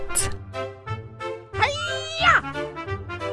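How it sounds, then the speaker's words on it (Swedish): A domestic cat meows several times in short, rising-and-falling calls, fairly close and clear, with a child-like voice speaking briefly between them. "Katt."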